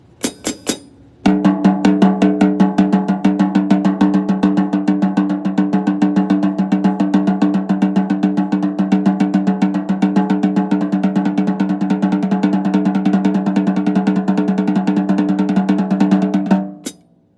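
A basic paradiddle played on a snare drum: a steady, rapid, evenly spaced stream of loud stick strokes runs for about fifteen seconds without pause, with no voices.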